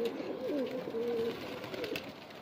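Pigeons coo softly nearby in a short series of low, rolling calls over faint outdoor background noise, with no talk.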